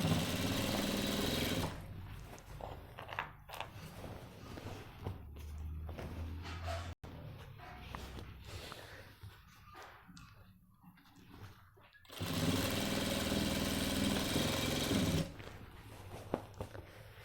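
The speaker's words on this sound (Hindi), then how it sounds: "बिल्कुल किनारी पर हमें सिलाई मारते रहना" A sewing machine stitches along the very edge of a trouser hem in two loud runs, with quieter fabric handling, thumps and faint voice in the stretch between them.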